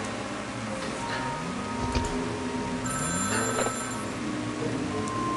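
A telephone rings repeatedly in an office in the video game The Dream Machine, with a steady bell-like ring heard over a quiet game background and no talking.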